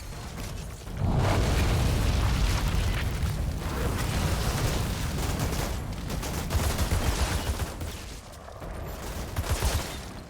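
Grenade blasts and gunfire from the shooter game Outriders, a dense run of heavy booms and crackling shots that stays loud throughout with a few brief dips.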